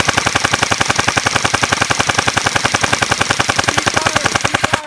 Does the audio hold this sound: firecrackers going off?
yes